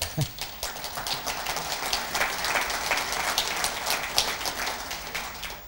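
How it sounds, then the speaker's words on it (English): Steady audience applause in a hall after a Tourism Ireland presentation in Belfast, a dense rain-like patter of many hands, moderately loud and continuous for several seconds with no clear talk over it. "I'm glad to see the Minister clap first."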